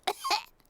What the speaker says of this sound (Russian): У меня кашель.